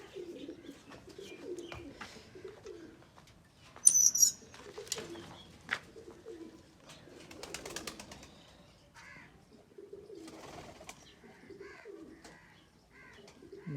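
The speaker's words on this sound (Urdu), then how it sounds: "یہ سفیولہ بھائی نے ابھی ٹیڈی کبوتر بھی ساتھ میں شامل کیے ہیں اڑانے کے لیے." Teddy pigeons near a loft, cooing low and repeatedly with bursts of wing flapping around four and eight seconds, fairly close with soft background murmur and faint chirps.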